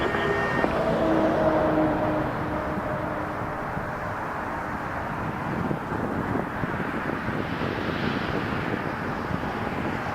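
An Airbus A321 rolling down runway 05 at Toronto Pearson gives a steady, broad engine roar with wind buffeting the microphone, holding level for the whole stretch at moderate distance, with no voices.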